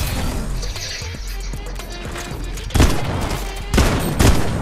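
Tactical AR assault rifle fire in Fortnite: quiet scattered game sounds, then sharp loud bursts of shots, a short volley near the middle and more cracks toward the end, close and punchy, with no talk.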